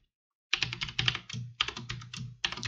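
Code is typed on a computer keyboard in quick rattling bursts of close key clicks, starting after a moment of silence and continuing in short runs with brief gaps, with no talk.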